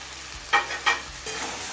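Garam masala powder stirred into a simmering chicken liver and stomach curry with potatoes: two quick scraping stirs over a soft background sizzle, then a longer gentle scrape.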